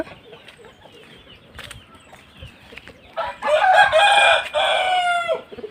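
A fighting rooster that has fought in two bouts clucks softly near the start, then lets out a loud, close crow lasting a couple of seconds, with faint scuffling before it.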